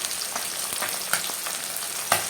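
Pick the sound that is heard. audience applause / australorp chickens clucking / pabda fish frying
pabda fish frying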